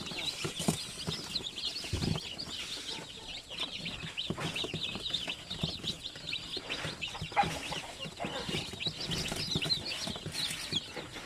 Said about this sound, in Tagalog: yung iba tinuturuan pa nilang paano kumain yung kanilang mga sisiw